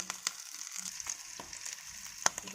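Sliced onions and whole green chillies frying in a pan for fish curry: a faint, soft sizzle broken by scattered light clicks and scrapes of stirring.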